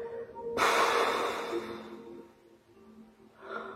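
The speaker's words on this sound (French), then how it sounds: "On se remplit d'air, puis on expire." One deep breath during a yoga relaxation exercise, a sudden breathy rush that trails off slowly, with a softer breath near the end.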